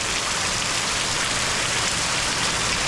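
Steady rain pours onto an above-ground swimming pool, a dense, even hiss of drops striking water that stays loud and unchanging throughout, with no voices.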